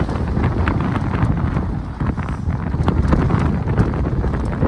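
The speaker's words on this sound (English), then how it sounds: "Quite a lively sea and quite windy" Strong, steady wind buffets the microphone over the constant wash of rough open sea during a sailing passage, a loud roaring blanket of noise with no pauses.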